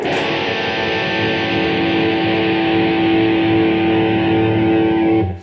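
Distorted electric guitar sustains an opening A-based chord, one loud ringing chord held for about five seconds before cutting off abruptly, alone.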